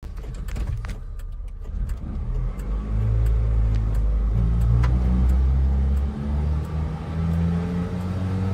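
A car engine rumbles and revs, a loud, low, throaty drone that swells and settles in uneven bursts, heard close and alone.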